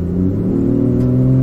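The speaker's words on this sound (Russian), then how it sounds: "сменяющийся ревом мотора" A car engine roars steadily and loudly, a deep continuous revving rumble with strong low harmonics that holds throughout without pause.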